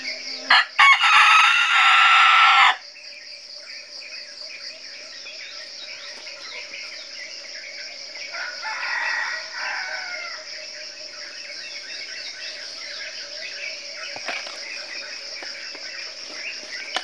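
A red junglefowl rooster crows in the field, starting as a loud, close burst of crowing. A steady chorus of crickets and insects hums underneath, and a fainter call follows partway through.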